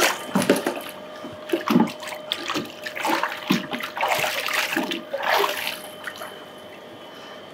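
Water splashes over an electronic device during a water test, arriving in irregular close bursts and splatters with short quieter gaps between them.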